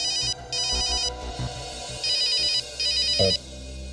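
A phone's electronic ringtone sounds in a TV crime-drama scene, repeating in clear, loud bursts with short gaps between them, over faint low background music.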